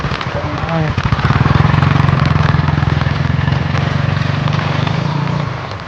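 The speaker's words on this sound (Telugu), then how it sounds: "ఇప్పుడు బైక్ మీద పోతున్నారు కదా వీళ్ళు" A motorcycle rides past on a village outing in Telangana, its steady engine drone loud and close for several seconds, with people talking over it.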